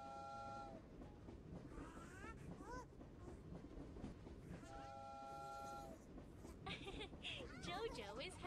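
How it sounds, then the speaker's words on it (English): A toy train rolls along with a clattering running sound while its high, tonal horn sounds twice in clear bursts near the start and middle, set among bright cartoon-style sounds and voices. "Choo-choo! The little train gets moving."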